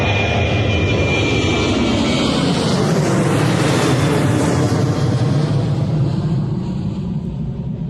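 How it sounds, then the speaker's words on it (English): A Jet2 Boeing 737 departs Bristol Airport, its jet engines a loud, steady roar with a rising and falling whine as it passes nearby, sustained throughout without talk. "Jet 2, Boeing 737 heading out the door"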